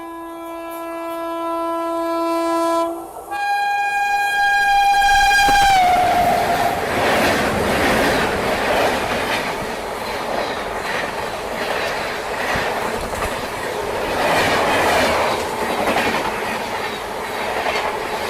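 An Indian passenger train near Kushinagar sounds a long loud horn, then starts moving off, with rumbling wheels and building clickety-clack continuing steadily close by.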